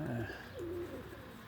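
Soft, low cooing from a pigeon, a couple of short murmuring calls, close and quiet against faint background noise.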